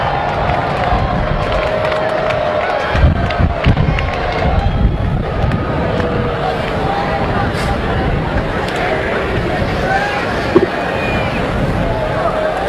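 A large graduation ceremony crowd at the University of Michigan cheers, claps and calls out in a steady, dense roar of many voices, a few louder whoops and shouts rising above the continuous distant babble.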